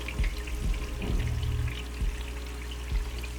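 Fishing jig swum through water in a bass test tank, producing soft splashes and bubbling trickles with a few low thumps, close and fairly quiet, with no talking.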